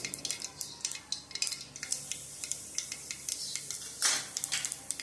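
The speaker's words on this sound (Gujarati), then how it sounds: "આપણી રાઈ તતડવા લાગી છે" Mustard seeds crackle in hot oil as rapid, sharp little pops spill out close by for a few seconds over a faint background sizzle, with no voice.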